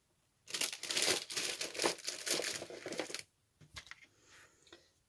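Adhesive tape being handled for a Halloween craft: a close, dense run of crinkling and tearing rustles for about three seconds, then softer, sparser handling noises.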